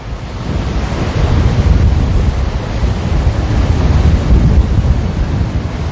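Steady wind gusts roar at the shore at Waikiki, a dense continuous rush blended with breaking surf, loud and close against the microphone, with no voices.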